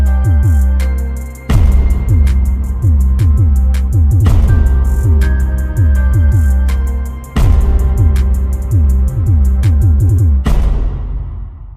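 Stock drum kit from BandLab playing a steady programmed beat with punchy kicks, snappy snares and ticking hi-hats, loud and alone with brief gaps where the pattern restarts.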